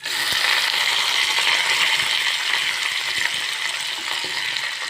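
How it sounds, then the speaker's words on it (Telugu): Dried red chillies, peanuts, tempering seeds and curry leaves frying in hot oil in a pan, a loud, dense, continuous sizzle with occasional faint stirring clicks, heard alone. "కరివేపాకు వేసి వేయించుకోవాలి"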